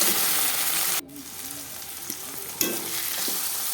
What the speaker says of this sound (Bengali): এর মধ্যে আমি ঢ্যাঁড়স দিয়ে দিলাম, দিয়ে আমি ভেজে নেব